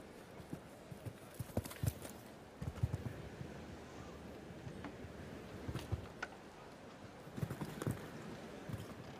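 Hooves of a 12-year-old Holsteiner mare thudding over an arena surface during a speed show jumping class at Aachen, a scattered run of soft, fairly distant impacts over crowd and arena ambience.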